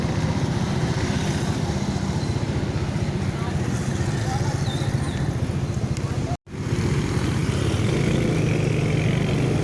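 Heavy afternoon traffic congestion with a newer MPM bus caught in it: a constant low engine rumble and motorbike-like drone, briefly cut off for an instant, while a person speaks over it.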